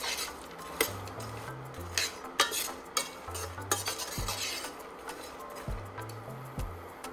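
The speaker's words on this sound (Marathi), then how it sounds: "आता हे सुद्धा आपण एक ते दोन मिनटं याला चांगलं भाजून घेणार आहोत" Pistachios, pumpkin seeds and watermelon seeds dry-roasting in a pan over low flame, stirred with a metal spoon that clinks and scrapes in an irregular rhythm against a faint, light sizzle.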